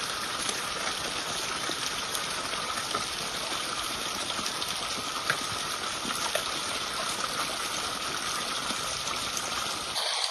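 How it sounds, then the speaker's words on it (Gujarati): Water gushes from a pipeline into a groundnut field in a continuous, fairly loud rushing flow that holds steady for about ten seconds and then cuts off abruptly. "અમે આ પાઇપલાઇનમાંથી પાણી કાઢી અને કરતા હોઈએ છીએ."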